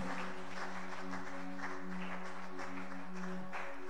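A church congregation claps and cheers in praise, a dense, steady wash of applause from many hands filling the room, with a sustained tone running beneath.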